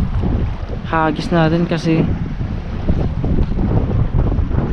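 Strong wind buffets the microphone on a fishing boat during jig fishing at sea, a steady broadband rushing roar throughout, with someone speaking briefly over it.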